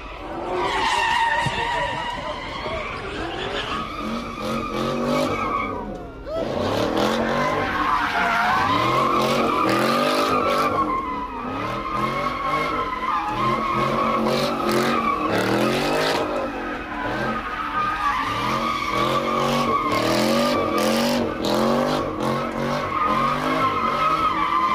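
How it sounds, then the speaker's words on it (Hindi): Loud tire squeal and screeching skids from a car doing stunts on the Auckland bridge in New Zealand, with a revving engine rising and falling continuously. One brief dip partway through breaks the otherwise unbroken noise. "ब्रिज के ऊपर कार से स्टंट"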